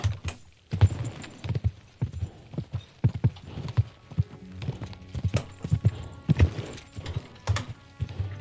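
Horse hooves galloping in the video game Kingdom Come: Deliverance 2, a close, quick and uneven clip-clop of hoofbeats running through the whole stretch, with no talking.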